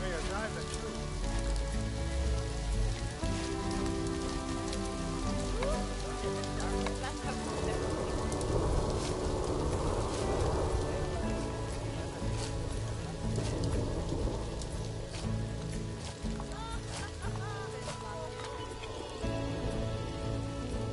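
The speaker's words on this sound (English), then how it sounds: "Here comes the rain." Steady rain falls in the Planet Zoo park-building game, a continuous hiss beneath game music and a voice talking throughout.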